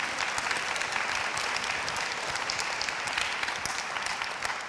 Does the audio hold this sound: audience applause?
yes